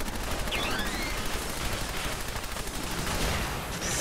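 Sustained enemy gunfire in Fallout 4, a dense, steady rattle of rapid shots filling the whole stretch at a fairly constant level with no talking.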